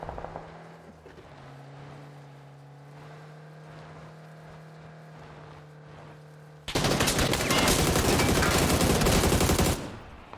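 Gunfire in PUBG on console: a vehicle engine hums along for several seconds, then a dense, loud burst of rapid automatic shots fires for about three seconds before stopping abruptly.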